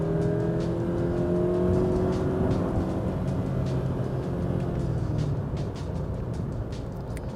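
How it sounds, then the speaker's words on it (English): Engine of a 2015 Scion FR-S sports car with automatic transmission in manual mode, revving and dropping as it downshifts, a steady sustained drone with rising and falling tones heard from inside the cabin, no talking. "You can also flip it over into manual mode, whereas downshifting, and you can really hear that engine."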